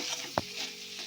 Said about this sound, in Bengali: একটু জল দেব মশলাটা কষানোর জন্য।